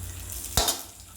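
A fried tempering mixture being stirred into bottle gourd koottu in a pan, with a soft sizzle throughout and one sharp spoon scrape about halfway through.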